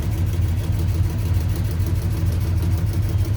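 A Dodge W150 truck with a 360 Magnum engine and new exhaust running steadily, a loud, close, low rumbling drone with a pulsing throb.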